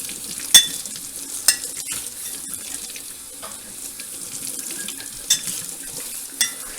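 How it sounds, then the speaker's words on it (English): Water runs in a steady soft splash as an item is gently rinsed while making home-brewed kombucha, with a few sharp clinks and knocks along the way. "So I'm just going to gently rinse this."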